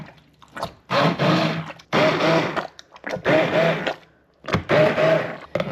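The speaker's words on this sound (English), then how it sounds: "I'm just gonna put the immersion blender down in and kind of pulse it." An immersion blender pulses in a pot of chunky onion sauce, giving four separate whirring bursts of about a second each, separated by short pauses.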